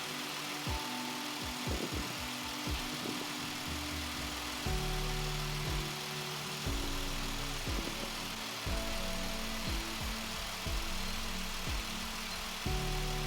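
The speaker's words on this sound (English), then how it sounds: "Start the engine and let it run with the radiator cap off to allow air bubbles to escape." A Dodge Charger engine idles steadily after a radiator replacement, a continuous low mechanical hum with faint periodic knocks and shifts, close and alone with no talking.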